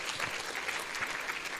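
Audience applause at a medical school graduation ceremony, a steady dense wash of many hands clapping throughout, moderately loud with no voices on top.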